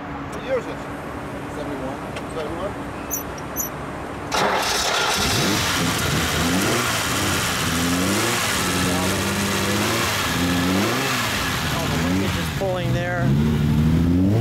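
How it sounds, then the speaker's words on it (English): The V12 engine of a 1971 Ferrari 365 GTB/4 Daytona cranks and fires up partway through, then settles into a loud, steady idle with a few revs, heard close. "can we start it up? People hear that and hear a little exhaust note."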